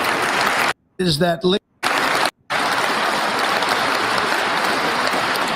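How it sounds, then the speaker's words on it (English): Crowd applause from a played speech recording, a dense wash of clapping interrupted by brief silent gaps and a short spoken question, then running steadily to the end. "and they all applaud for it"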